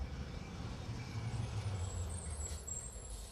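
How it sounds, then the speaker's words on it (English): A garbage truck passing on a Hollywood street, a low diesel rumble heard fairly faint and steady, with a brief hiss of air brakes near the end. "appropriate that a garbage truck should be coming by at that time"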